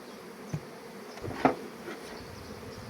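Honey bees buzz around an open beehive, a soft continuous drone with a couple of brief knocks, faint and close.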